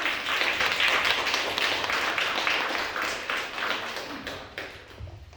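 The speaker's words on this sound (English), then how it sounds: "Give him a round of applause, ladies and gentlemen." A small audience claps for a performer on stage, brisk scattered hand claps that stay fairly steady before tapering off into a few isolated claps at the end.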